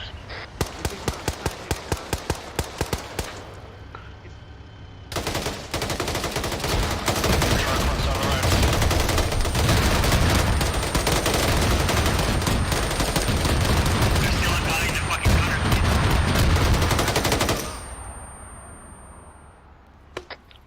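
Machine gun fire in a military video game: a few sharp spaced shots, then a long loud continuous burst of automatic fire, tapering to a couple of last cracks.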